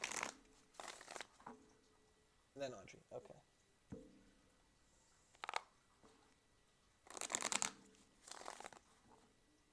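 Tarot cards are shuffled in short, crisp bursts of riffling and slapping, separated by quiet gaps, with a person speaking briefly between them.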